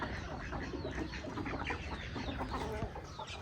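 A hen and her five chicks cluck and peep continuously nearby, a busy jumble of soft clucks and high chirps with no talking.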